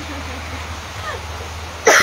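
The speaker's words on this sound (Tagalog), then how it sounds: "Ubo muna ako." A single short, sharp cough bursts out at the very end after a stretch of steady low background noise.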